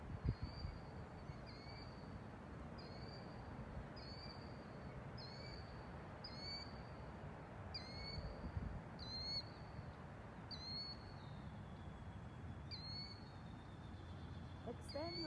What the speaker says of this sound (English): You may notice the sounds of the earth, of the birds, nature.